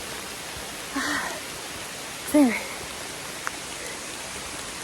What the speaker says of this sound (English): Oh, it's thundering and pouring down.